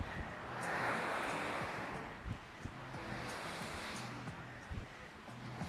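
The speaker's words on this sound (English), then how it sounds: "Looking at the really nice waves we have today, which is not normal for us" Ocean waves breaking on a Brevard beach, a soft, distant wash of surf that swells early then settles into a faint, steady hiss mixed with light wind.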